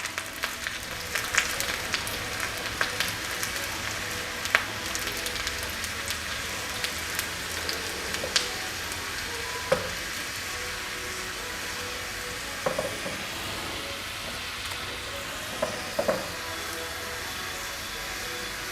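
Garlic sizzling in hot oil while pickle is being made, a continuous crackling hiss with scattered pops throughout.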